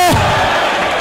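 Spectators cheering and roaring loudly at a rackets doubles match at The Queen's Club, a dense sustained wall of crowd noise following a brief sharp shout at the start.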